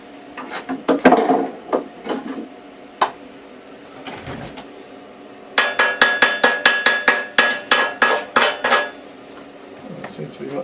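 A hammer chipping slag off a weld, a string of sharp ringing taps, sparse at first and then a quick steady rhythm of clanks.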